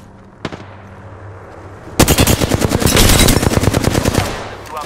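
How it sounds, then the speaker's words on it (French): In Apex Legends, a single distant shot is followed by a burst of loud, rapid automatic gunfire that starts abruptly and rattles on for nearly three seconds before easing off. "On me tire dessus."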